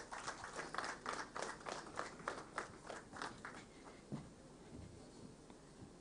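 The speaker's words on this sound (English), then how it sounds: "So ladies and gentlemen, with a warm round of applause," A live audience at a conference gives a warm round of applause to welcome a speaker. Dense, even clapping carries for about four seconds, then tapers off into quiet room noise with a few faint knocks.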